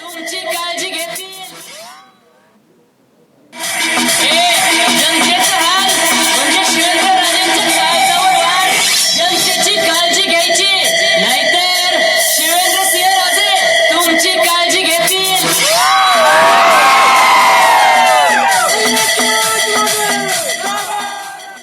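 A young crowd cheers and whoops around Shivendra Raje's car, loud and sustained, with music-like tones and shouting layered throughout, briefly dropping after two seconds before surging again.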